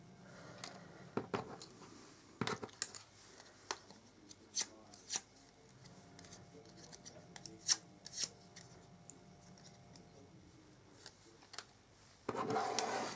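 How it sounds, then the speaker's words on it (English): A bone folder works paper butterfly wings on a handmade card, making soft, quiet rubs, scrapes and light taps that come in scattered bursts, with a louder rustle near the end. "give these butterflies some life just with your bone folder thing your wings up"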